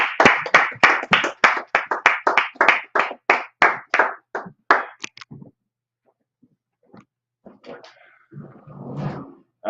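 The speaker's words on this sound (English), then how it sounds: "Clap it up." Audience clapping at a class gathering in Harlem, New York: a burst of loud, rapid claps from a crowd that thins out and stops after about five seconds, followed by scattered faint sounds and brief muffled talk.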